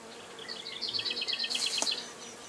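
Honeybees from a log hive being split into new colonies buzz and whine near the hive in a dense, steady swarm drone.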